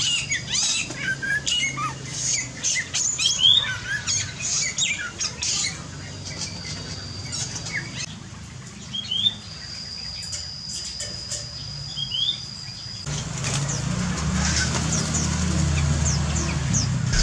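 Chirps, squawks and short calls from birds kept in a home aviary, scattered and fairly near, with a sustained high whistle in the middle and a low rumbling background rising toward the end.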